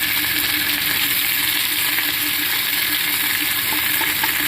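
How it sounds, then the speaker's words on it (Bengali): Eggplant with neem leaves, green chilli and other seasonings frying in hot oil, a continuous bright even sizzle with no talking over it, steady and close throughout. "এবার আমি এখানে নিম পাতাটা দিয়ে দেবো, দিয়ে ভালো করে ভেজে নেব"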